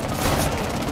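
Shotgun fire in the Rainbow Six Siege video game, heard as a dense, loud burst of gunfire filling the full second with no clear gaps between shots.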